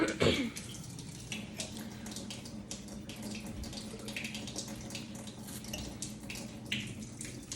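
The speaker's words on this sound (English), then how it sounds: "I'm gonna turn my sink on and I'm gonna do that really quickly" Kitchen sink tap running slowly while the water warms up, a steady close wash of flowing water under a clatter of small household knocks, with a brief throat-clearing near the start.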